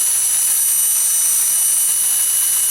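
A small homemade steam turbine geared down 3 to 1 runs under load, giving a loud, steady high-pitched whine with a constant hiss throughout, close and uninterrupted.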